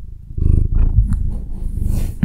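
A cat purrs right against the microphone in a loud, steady, low rumble that continues throughout, with a few faint rustles on top.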